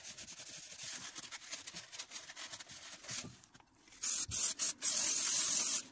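Aerosol brake cleaner sprayed onto car brake parts during a DIY brake job, a soft scrubbing hiss at first, then loud close bursts of spray in several short pulses near the end.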